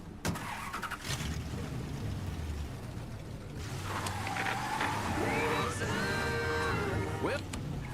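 Car engine in Mafia 3 running and revving in the game world, a steady mid-level motor hum that rises as the car pulls in, with a voice speaking briefly over it.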